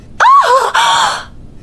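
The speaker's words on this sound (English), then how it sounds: "His wife screamed. The woman screamed again" A woman lets out a loud, happy scream in two bursts, the first rising and falling in pitch, the second a brighter sustained cry that fades out.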